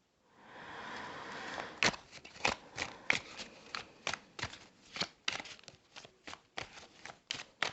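A deck of playing cards being shuffled close up, a rapid series of crisp riffles and snaps in an uneven rhythm with no talking.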